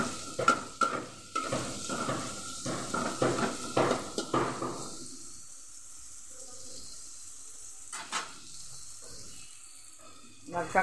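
Onions and tomato frying in a pan while being stirred, with repeated scraping strokes over a steady sizzle for about five seconds, then a quieter sizzle with occasional clinks.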